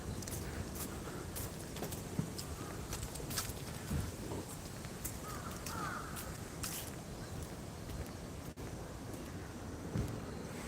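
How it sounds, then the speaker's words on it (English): Crows caw now and then over a steady outdoor wash of street noise and footsteps on a walk up a castle mountain in Kagoshima, Japan; the calls are moderate in level and scattered rather than rhythmic. "the crows are a bit noisy"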